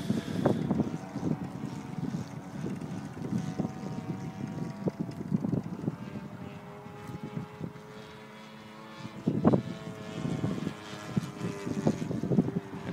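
A model Extra aerobatic airplane flying on a windy day, its small engine droning and shifting pitch at a distance under steady wind buffeting the microphone, briefly quieter near the middle before rising again.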